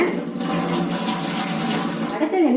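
Water runs and splashes steadily as it drains off half a kilo of raw rice that was washed four times and soaked for two hours, a close, continuous trickling pour.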